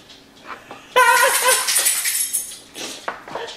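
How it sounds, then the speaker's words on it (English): A dog bursts into a room, giving a loud, sustained whimpering whine with a few short yelps over about three seconds, alone and close to the listener. "Impromptu entry of the dog."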